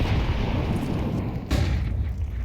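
A grenade goes off in Counter-Strike 2 during a competitive match, a rumbling, distant-sounding boom with a sharper burst partway through, set in a steady bed of low game noise.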